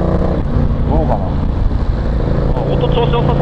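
A motorcycle engine drones steadily during a ride on a touring trip, a continuous mid-pitched running note with wind rush and road noise, close and fairly loud throughout.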